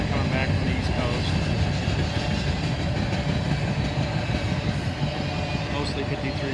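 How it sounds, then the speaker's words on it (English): A long intermodal freight train, mostly empty 53-foot containers with some international boxes, rolls past close by as a steady loud rumble with rail clatter throughout. "It's a pretty long intermodal train, mostly empties, I'd imagine, coming back from the East Coast."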